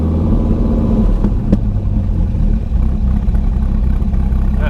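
The V10 engine of a 2003 Dodge Viper SRT10 rumbles loud and close with a deep, uneven burble, its revs rising and falling steadily throughout.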